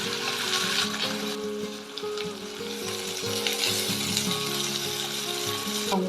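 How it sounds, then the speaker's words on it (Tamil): Thinly sliced small shallots sizzle steadily in hot spiced oil for pepper chicken, a loud, continuous frying crackle close by with no talk. "வெங்காயம் நல்லா வதங்கட்டும்."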